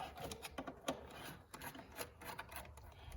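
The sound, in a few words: removing the air box from a Silverado engine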